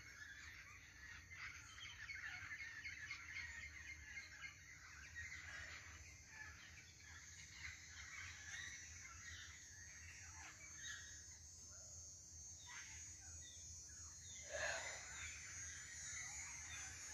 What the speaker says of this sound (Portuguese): A música dos passarinhos.